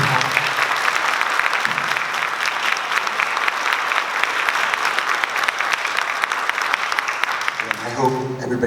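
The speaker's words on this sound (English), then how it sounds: "Can we have a round of applause for our incredible" An audience at the Bigs in Blue Summit gives a long, steady round of applause, loud and dense with many hands. A voice begins speaking as the clapping fades at the end.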